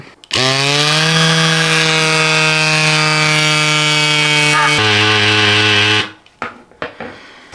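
A portable electric pump inflating a flat bicycle tyre runs with a loud, steady motor whine for about six seconds, its pitch stepping down near the end before it stops, followed by a few handling clicks.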